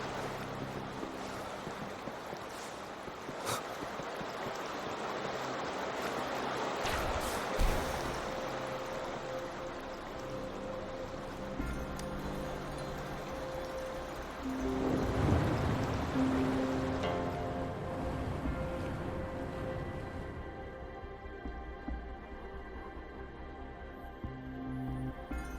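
Water level dropping in the Wuthering Waves video game: a long, steady wash of flowing and draining water rumbles at moderate loudness, swelling around the middle before thinning and fading toward the end.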